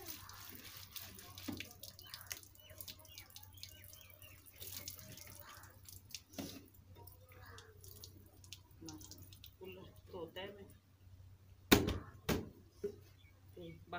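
Dishes being washed under running water in a mud house, with a faint tap trickle, scattered clinks of utensils and a louder clatter near the end while people talk quietly throughout.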